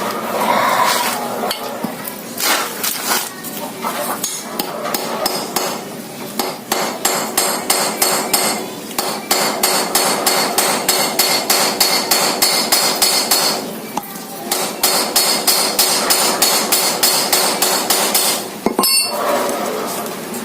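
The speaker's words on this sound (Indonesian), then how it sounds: "Terus kita pukul lagi menggunakan palu yang agak kecilan." A small hammer taps rapidly and repeatedly on metal while replacing a clutch rubber, bright clinking strikes in steady runs broken by brief pauses.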